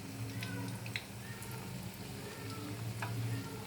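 Fish roe frying in a pan gives a soft, steady sizzle with a low hum beneath and a few faint clinks of a utensil, fairly quiet and close.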